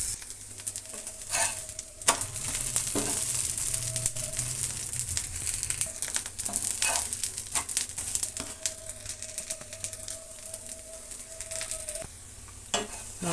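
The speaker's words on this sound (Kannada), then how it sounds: "ನೋಡಿ ರೊಟ್ಟಿ ಫ್ರೈ ಆಯಿತು." A semolina rava roti fries in oil on a pan, a continuous crackling sizzle with occasional sharp spatula clicks and brief scraping, fairly close and uninterrupted by speech.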